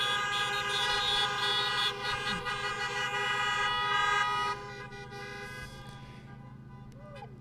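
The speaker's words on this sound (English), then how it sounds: "so honk your horns again for Chef Peter" Car horns honk at an outdoor drive-in Hanukkah celebration in Anchorage, a loud, sustained blare of overlapping horns that drops to quieter scattered honking toward the end.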